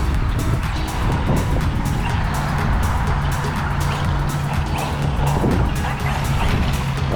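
Arrma Vortek RC car drifting on asphalt, a continuous loud whine of the electric motor with gritty tyre scrub and rattling suspension, close and steady throughout.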